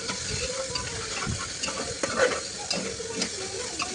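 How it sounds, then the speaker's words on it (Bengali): Ginger-garlic masala for a goat (mutton) curry frying in oil in a pan, with steady close sizzling and intermittent scraping stirs of a spatula against the pot. "তো এই দেখো আমাদের ভাজা হয়ে গেছে, আদা রসুন তেলও বেরিয়ে গেছে"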